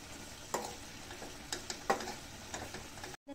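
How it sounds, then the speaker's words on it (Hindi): Mawa is stirred continuously in a very hot kadhai, and a spatula scrapes and clinks against the iron in short repeated strokes over a quiet background sizzle. The sound is close, with no talking, and it cuts out briefly near the end. "इसे अभी भी लगातार चलाते ही रहेंगे क्योंकि जो कढ़ाई है हमारी वो बहुत ज़्यादा गर्म है।"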